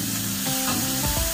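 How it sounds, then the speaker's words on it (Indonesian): Soy sauce being stirred in a hot frying pan while making a tofu omelette, with a steady sizzle and scraping stirring strokes close by throughout. "Kita aduk sebentar"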